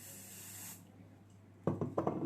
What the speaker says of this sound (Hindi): hard spray